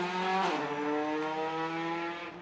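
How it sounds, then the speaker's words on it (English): A Formula 3 Dallara race car with a four-cylinder HWA Mercedes engine launches at a grassroots sprint event, its engine note shifting up sharply then holding a loud, close, steady high-revving drone. "Stephen Woodbridge in the Formula 3 Dallara launches"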